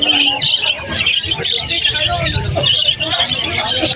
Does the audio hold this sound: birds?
yes